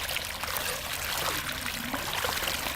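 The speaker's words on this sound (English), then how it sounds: "I'm just right now cleaning my knife in this waterfall." A waterfall splashes and trickles continuously nearby while a knife is rinsed in it, a steady bright wash of running water with no speech.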